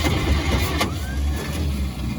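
A flooded engine on a WWII vehicle sputters and rumbles as the starter cranks it, a dense low churning close by with a sharp burst partway through, no voices.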